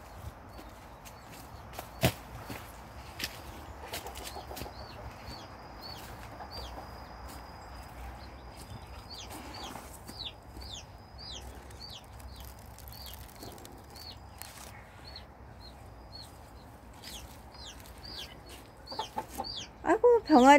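Newly hatched Araucana-type chicks peep in repeated high chirps beside a white Silkie hen's soft clucks on a farm plot. A person talks quietly at times, and sharp knocks and bursts of peeping rise near the end.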